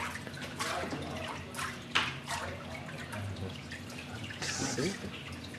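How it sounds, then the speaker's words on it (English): Water draining and dripping from a papermaking mould after it is lifted and shaken, with splashy trickles and patters close by amid faint background voices. "shake it a little bit, so the water goes down, and the fiber rests."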